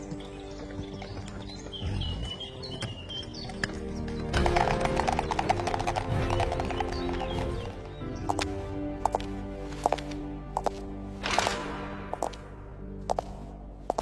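A horse-drawn carriage rolls along a road toward a royal palace, its hooves clip-clopping in a steady, fairly close rhythm, with a brief whinny and faint birdsong in the background.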